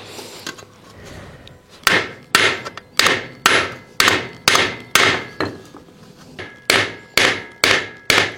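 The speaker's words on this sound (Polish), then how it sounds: "Przyszłeś pomóc kosę klepać?" Hammer peening an old, century-old scythe blade, a series of sharp metallic strikes in irregular bursts, close and loud, with brief pauses between groups of blows.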